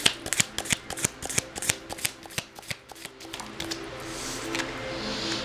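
Tarot cards are riffled and shuffled by hand, a quick series of crisp flapping bursts followed by a softer continuous slide of cards, close and quiet with no talk.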